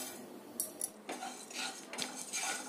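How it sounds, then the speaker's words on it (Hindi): Fennel seeds are spooned into a hot kadai on a low-to-medium gas flame, giving soft metallic clinks and a light rattle of seeds, faint and close. "अब डालेंगे इसमें 4 चम्मच सौंफ।"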